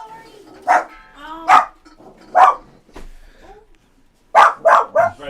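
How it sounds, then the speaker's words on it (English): An excited dog barks loudly in a room full of people, several sharp barks coming in bursts and then a quick run of three, with brief yips and whimpers in the gaps. "the dog is flipping out."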